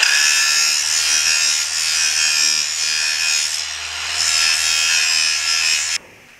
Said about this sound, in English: but I still got to grind it smooth